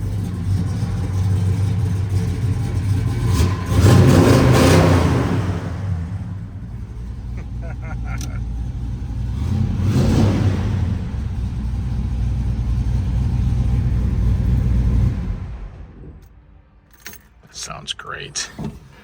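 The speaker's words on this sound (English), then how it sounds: "Let me get on the throttle for a minute." A 1970 Chevrolet Chevelle with a 396 V8 and headers revs up in loud, low rumbling surges, peaking twice, then settles back toward idle, with people talking briefly near the end.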